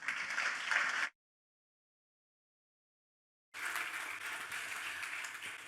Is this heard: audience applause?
yes